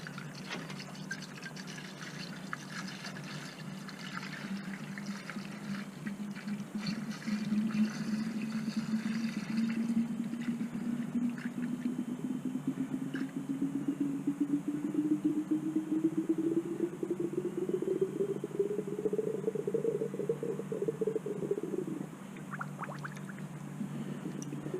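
Orange Volkswagen coolant is poured without a funnel into a Volkswagen Jetta's cooling system, giving a continuous gurgling fill whose pitch steadily rises as the reservoir fills, then stops abruptly near the end.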